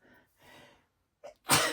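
A single close, sharp sneeze bursts out after a couple of quiet preparatory breaths and a gasp, indoors while working on a spring-themed craft journal.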